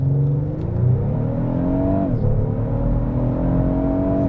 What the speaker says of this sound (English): From its stop, it takes off really hard.